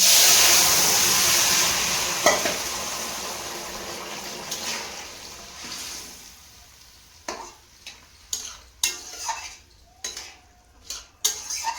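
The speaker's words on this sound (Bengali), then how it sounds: "আবার এই কচুর তরকারিটা এতে ঢেলে দেবো" Taro curry tipped into a hot pan, hissing and sizzling loudly at first and then fading, followed by a series of sharp scraping clinks of a spoon stirring against the pan.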